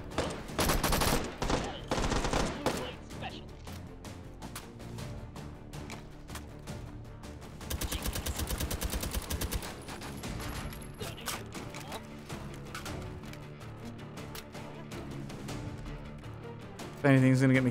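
Heavy gunfire in the VR shooter H3VR, with rapid bursts and sustained automatic fire that is loud and dense, and talking mixed in.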